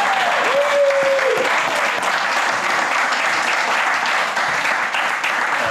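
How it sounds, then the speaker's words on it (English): Studio audience applause welcoming a guest onto the stage of a live Edinburgh festival TV programme, sustained dense clapping from start to finish with a brief whoop near the beginning. "Round of applause for Nils."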